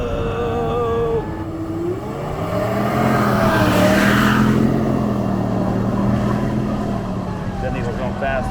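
A supercharged Ford F350 with a 7.3 V8 revs hard on a 0-60 launch. The deep engine note climbs steadily as the truck accelerates, loud and close from inside the cab, with people talking and reacting over it.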